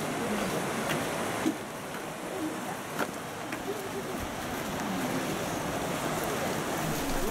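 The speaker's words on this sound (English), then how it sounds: "you reach the waterfall" A continuous broadband rush of falling water from Minoh Waterfall near Osaka, Japan, fills the scene, steady and enveloping, with faint occasional clicks and no voices.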